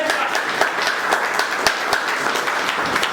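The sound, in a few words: audience applause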